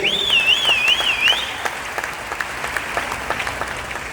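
Applause from an audience at a business meeting in a hall in Patna, with dense steady clapping throughout and a brief high whistling tone near the start.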